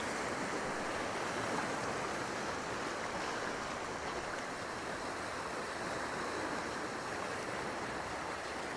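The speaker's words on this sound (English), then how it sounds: "I'm waiting for the water to cascade into that little rock pool" Ocean water washing and cascading into a small rock pool along the shore, a continuous broad rushing surge with a faint windy edge, steady and fairly close, no voices.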